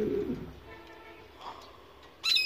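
Military-breed pigeons give low, throaty coos near the start, followed by quieter rustling and a sharp burst of higher calls at the end, heard close up and alone.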